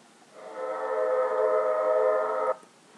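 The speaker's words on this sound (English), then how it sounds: "a train whistle blew, you click the train" A train whistle blows in one steady, sustained note for about two seconds, fairly close and clear, then stops abruptly.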